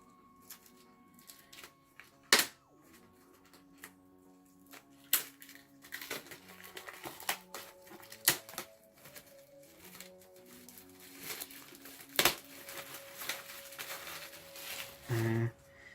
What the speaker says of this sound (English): we're going to be very careful here with these scissors. So just cut that bit there at the top, and then we'll just peel away the rest of it